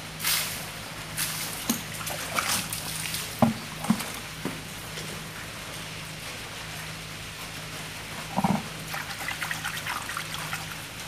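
Water trickling and splashing as it rinses acid off a gold-bearing stone, a steady close dribble with a few sharper spatters, no talking.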